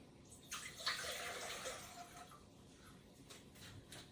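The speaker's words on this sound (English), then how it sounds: "So first we're gonna add the 4 cups of water to the pot." Four cups of water pouring into a cooking pot on a kitchen stove for hummingbird nectar, a steady splashing stream that swells quickly, then tapers to softer trickles, close and fairly quiet.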